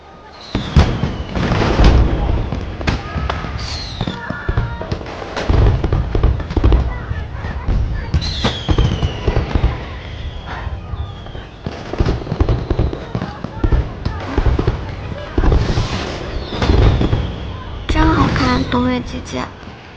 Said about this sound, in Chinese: 我也没有想到花灯节的烟花这么好看